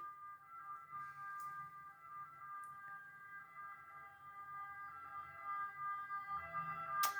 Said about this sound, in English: This is like the third ambulance to go past my street, I don't know, in the last 20 minutes.